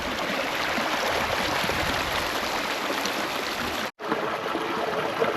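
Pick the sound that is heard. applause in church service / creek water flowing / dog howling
creek water flowing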